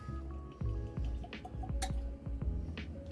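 Glenbow whiskey is poured from a freshly uncorked bottle, giving a close, steady liquid trickle broken by a few soft clinks and drips over several seconds, with no one speaking.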